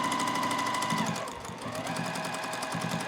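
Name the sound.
sewing machine stitching quilt block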